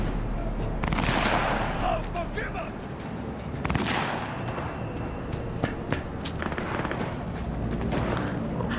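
Scattered gunfire in Cyberpunk 2077 crackles over a dense, steady wash of game ambience, with a few sharper bursts standing out and no clear talk.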